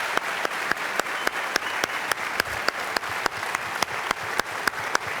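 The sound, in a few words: audience applauding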